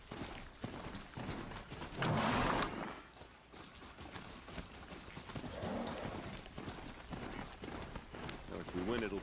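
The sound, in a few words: horse hooves galloping, Horizon Zero Dawn video game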